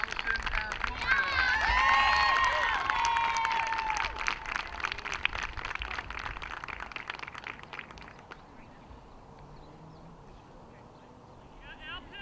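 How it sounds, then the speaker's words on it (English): Crowd applause and cheering at a high school softball senior night, loud and dense for several seconds before tapering off, with an announcer's voice speaking over it. "Let's have a round of applause for Allison Lewis."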